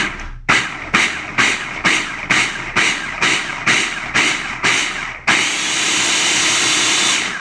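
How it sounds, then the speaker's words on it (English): A blender whirs pumpkin pie filling in about ten short, evenly spaced pulses, then runs in one steady, loud continuous spin to the end. "Now, we blend. So this might be loud."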